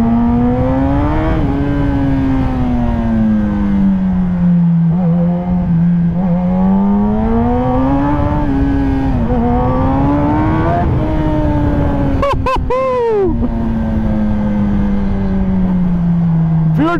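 A motorbike engine revs up and down repeatedly in long smooth swells, loud and close, with a couple of sharp crackling blips near the end.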